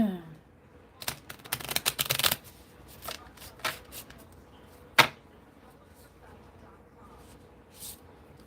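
Oracle cards being shuffled and pulled from the deck: a dense riffling burst early on, then scattered crisp card snaps and flicks, one sharp slap near the middle, close up with faint voice in the background.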